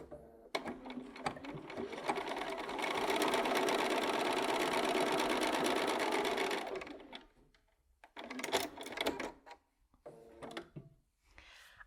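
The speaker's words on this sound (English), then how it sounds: "So I'm just going to sew that all the way down." A sewing machine runs steadily for about four seconds while stitching quilt fabric pieces for a bow-tie quilt block, loud and close. It is framed by shorter bursts of the motor and handling noises.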